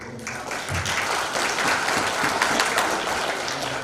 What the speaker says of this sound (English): Let's have a round of applause for our guests.